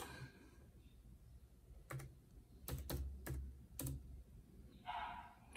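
Computer keyboard typing in a quiet room: a few separate short bursts of keystrokes, moderately close and fairly soft, with no talking.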